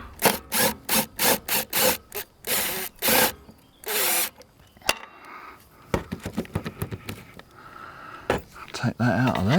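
A Makita power tool works a rusted part loose on a Husqvarna M53S Pro lawn mower in a series of short whirring bursts separated by pauses, followed by clinking metal and handling noises.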